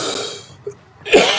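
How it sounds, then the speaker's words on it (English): An older man gives a single short cough close to the microphone, a sharp burst after a moment of quiet, with a faint breath before it. "I got a cough now and then in the fall."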